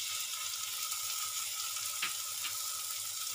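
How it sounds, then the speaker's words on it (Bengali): Onion, tomato and ginger-garlic paste sizzle steadily in a pan over a medium flame, a close, constant frying hiss with a couple of faint stirring clicks. "আমি মিডিয়াম ফ্লেমে 2 মিনিট ভালো করে কষিয়ে নেব"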